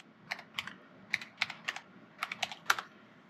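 Quick, uneven keystrokes on a computer keyboard while configuring an Orange Pi 5 single-board computer, about a dozen close, crisp clicks in short bursts with no talk.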